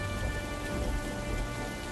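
Steady, dense rain pours down, a constant hiss with a low rumble beneath it, continuous and fairly close, with no voices.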